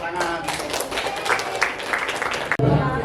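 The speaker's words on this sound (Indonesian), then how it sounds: "tepuk tangan" Applause at a Pramuka Pandega scout meeting: a short burst of scattered hand claps with a couple of sharp thuds, mixed with nearby talking voices, cutting off abruptly near the end.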